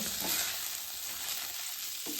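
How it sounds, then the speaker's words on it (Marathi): Steady, close sizzling of rice frying in hot ghee, a continuous crackling hiss with soft stirring scrapes and no voices. "तांदूळ हे छान तुपामध्ये असे परतायचे आहेत"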